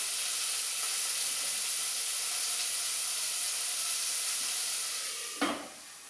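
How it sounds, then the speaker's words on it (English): Food for a soup fries steadily in a pan as a constant, fairly loud sizzle and hiss, with one short clatter near the end and no talking. "You just want to leave that to fry in for a couple of minutes"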